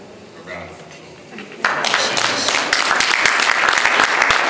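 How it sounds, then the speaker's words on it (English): An audience at a community event bursts into dense, sustained applause partway through, after quieter moments with a voice speaking; the clapping stays loud and continuous to the end. "I think I can give her a round of applause."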